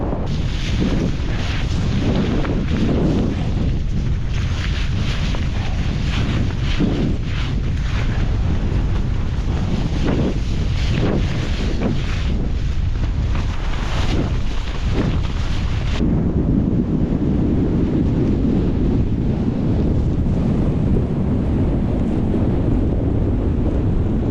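Strong, continuous wind on the winter summit of Beinn Odhar in the Scottish Highlands roars and buffets the microphone, loud and unbroken, easing into a lower steady rush toward the end.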